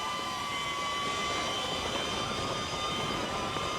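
Small DJI Neo 2 drone flying alongside a mountain biker riding uphill, giving a steady high-pitched motor whine with sustained tonal bands over continuous rushing wind and rolling noise, close and loud throughout with no talk.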